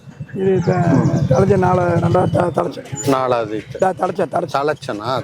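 A cow lows in drawn-out, tonal calls at a native cattle market in Palayakottai, close and fairly loud, with people talking over and around it.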